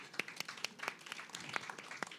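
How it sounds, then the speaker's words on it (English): Audience at a UNICEF Jamaica policy dialogue launch clapping, a moderately quiet round of applause with distinct individual claps standing out. "Feel free to go ahead and clap"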